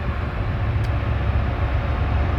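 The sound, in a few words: northbound intermodal freight train passing at Crescent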